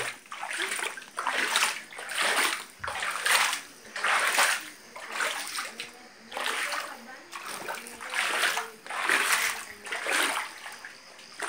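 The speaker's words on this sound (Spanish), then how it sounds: "El agua dentro de mi tienda." Water sloshing and splashing inside a flooded small shop, in rhythmic surges roughly every second, close and moderately loud, with what may be a voice faintly in the background.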